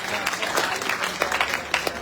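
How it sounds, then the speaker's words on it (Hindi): Loud, dense applause from an audience at a BJP political rally, steady clapping throughout with a few sharper peaks. "जोरदार ताली।"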